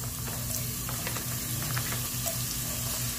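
Carrot pieces fry in a pan, a steady loud sizzle with crackling pops and occasional stirring scrapes, close and continuous.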